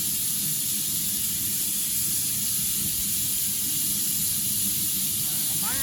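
Steady, loud hissing of steam venting under pressure from a steam boiler's blow-off valve, at 40 PSI, heated by a rocket stove waste oil burner, constant throughout with a broad high-pitched rush.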